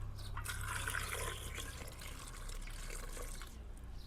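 Water runs and splashes softly over small chopped potato pieces with salt in a pot, a quiet continuous pour that thins out toward the end.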